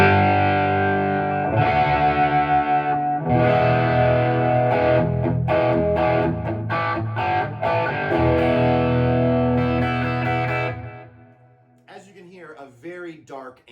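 Electric guitar through a dark-voiced Naylor Super Drive 60 tube amp with all controls at noon, muted highs, strummed chords and picked notes played up close, then fading out near the end.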